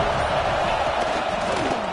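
A stadium crowd at a football game roars steadily throughout, a loud, dense wall of cheering and shouting with no breaks.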